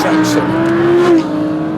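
A loud V10 engine in an Audi R8 in the Top Drives racing video game holds a steady high-pitched rev near 8,500 rpm, a continuous droning whine that dips briefly near the end, with a voice talking over it.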